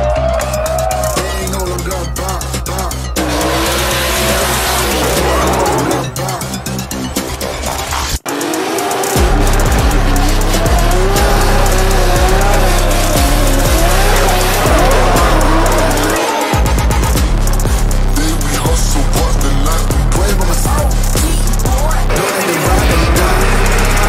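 BMW S55-engined drift cars with DCT gearboxes drift at Ferropolis Drift Island, engines roaring and revving hard with tire squeal, loud and continuous, broken by a couple of brief gear shifts.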